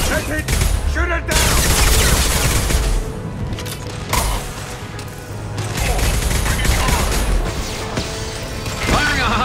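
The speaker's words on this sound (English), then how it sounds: "Firing a high impact shot." A high-impact shot goes off in Mass Effect 2 with loud bursts of gunfire and booming impacts amid dense mechanical combat noise. The firing keeps going across the clip with brief lulls.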